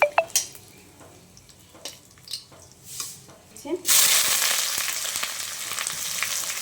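Bay leaf, cumin, cinnamon and cardamom dropped into hot oil: a few clinks and knocks, then a sudden loud, steady sizzle that carries on to the end.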